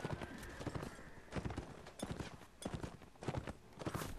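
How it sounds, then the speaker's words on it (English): Horse in the Mount & Blade video game galloping into battle, rapid irregular hoofbeats mixed with dense clashing impacts and crowd noise, continuous and loud throughout. "Softening up the enemy by just riding my horse into them."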